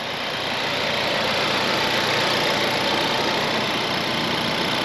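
The 2.3 litre turbocharged engine of a Ford Focus RS mk3 with a K&N filter, otherwise standard, idles steadily and close up: a dense, even rumble with a faint rough edge, no voices.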